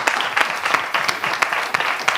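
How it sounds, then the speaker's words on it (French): Studio audience clapping for guests on a French-language variety show, a dense, close round of applause with steady rhythmic accents throughout. "On applaudit pour elles."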